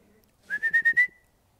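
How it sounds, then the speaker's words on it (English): A person whistles a quick run of five short, clear notes at one steady pitch, close and alone, over a quiet background. "Amazing how a whistle just stops them."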